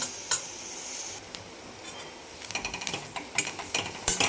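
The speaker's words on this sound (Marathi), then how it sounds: "आपण हिला छान भाजून घेऊ एक पाच मिनिट फक्त भाजून घ्यायची आहे आपल्याला" Ghol (purslane) leafy greens roast in a pan with a soft sizzle, broken by scraping and clattering strokes of a spatula that grow busier toward the end, close up and without talk.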